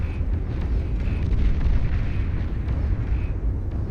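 A battleship in the Beyond All Reason strategy game is destroyed by explosions: a dense, loud, rumbling barrage of booms and blasts without pause.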